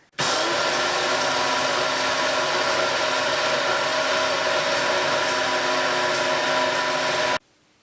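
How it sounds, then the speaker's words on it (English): An electric spice grinder whirs steadily for about seven seconds, grinding unroasted Sri Lankan curry powder spices with curry leaves, loud and continuous from start-up to an abrupt stop. "I will just plug this in over there and grind it"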